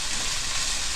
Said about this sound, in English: I'm going to stir fry that for about 2 minutes